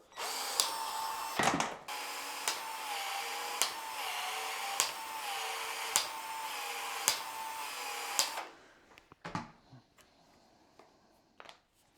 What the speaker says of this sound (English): I had another 12 volt here for my little handy drill.